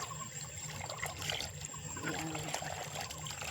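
Water poured from a container onto garden plants, a soft trickling and splashing under quiet outdoor ambience, with a brief spoken word.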